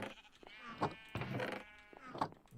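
Sheep in a video game bleat in a few short, quavering calls, soft and close, with quiet background noise between them.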